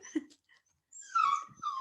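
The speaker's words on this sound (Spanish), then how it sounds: "¿Escuchan un perrito llorando?" A baby puppy whines and cries in a few short, high, wavering bursts, fairly close but not loud, with a brief pause between them.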